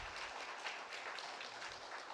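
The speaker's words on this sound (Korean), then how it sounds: "박수로 환영하겠습니다." A church congregation applauds to welcome new members, dense steady clapping filling the room at a moderate level, uninterrupted and without voices.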